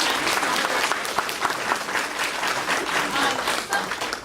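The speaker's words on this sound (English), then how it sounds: "So you can help me give a round of applause for" Steady audience applause at a breakfast meeting, a dense, even burst of many hands clapping throughout the short stretch with no voices over it.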